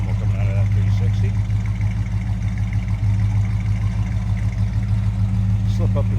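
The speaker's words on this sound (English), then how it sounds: "Nice little rumble coming out of that 360" Deep, steady idle rumble from the 360 V8 of a 1973 Plymouth Road Runner, heard close and continuous throughout, with strong low-end throb and no voices.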